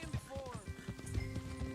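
Horse hooves beating quickly in Red Dead Redemption 2, a rapid, rhythmic clip-clop of a galloping horse, mixed with game sounds and a person talking over it.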